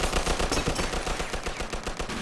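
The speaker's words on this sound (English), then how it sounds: "Looks like we found the machine gun." Machine gun fire in the Mafia II video game, a dense continuous rattle of rapid shots at a loud, steady level for the whole stretch, with no voices.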